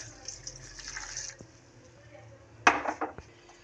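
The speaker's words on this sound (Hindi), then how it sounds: "अब इसमें डालूंगी 1 कप, ये 1 गिलास पानी का।" A glass of water poured into a cooking pot of spiced chicken for shami kebab, giving a brief close splash and trickle with light clinks of utensils, following quieter kitchen rustling.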